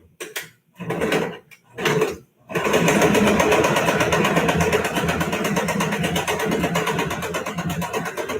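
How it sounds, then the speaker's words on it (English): A sewing machine stitches and back stitches a fabric face mask. Short bursts of whirring, broken by brief pauses, give way to a long, loud, steady run of close needle chatter. "I'm going to sew a little bit and back stitch."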